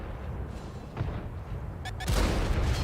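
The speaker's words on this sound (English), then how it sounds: "Being targeted by enemy artillery." Enemy artillery fire in World of Tanks on console: rumbling distant shots, then a sharp, loud boom near the end, with a harsh burst of noise following the impact.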